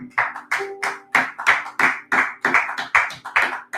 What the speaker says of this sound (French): Acclamons, acclamons pour le Seigneur Jésus-Christ de Nazareth.